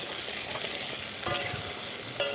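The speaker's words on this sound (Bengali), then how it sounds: "তো এরপরে ভালো করে নাড়িয়ে চাড়িয়ে নেব।" Mango pickle mixture being stirred in a hot pan, with a steady oily sizzle and a couple of sharper scraping strokes of the spoon, close and continuous with no talking.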